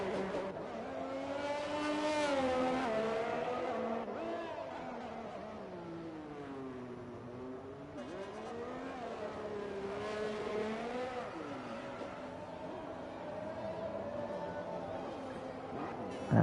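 Race car engine in a racing video game, out lap at Monaco during qualifying, revving steadily with rising and falling pitch sweeps as gears change, loud and continuous throughout with no talk.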